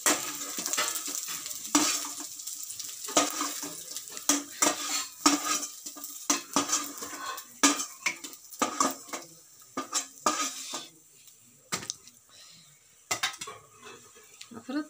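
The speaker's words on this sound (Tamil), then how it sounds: "இந்த வெங்காயம் கொஞ்சம் வதக்கி எடுத்துட்டு தேங்காய் ஒரு வதக்கி எடுத்துக்கலாம்." Onion and coconut sautéing in a pan, heard as repeated scraping and clinking of a utensil against the pan over a soft sizzle, close and fairly steady with irregular bursts throughout.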